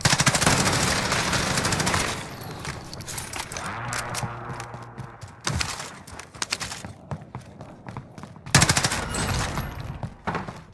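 Gunfire in Call of Duty Warzone (Modern Warfare) comes in loud, rapid bursts of automatic shots, with short pauses and scattered single shots between the volleys. No one speaks.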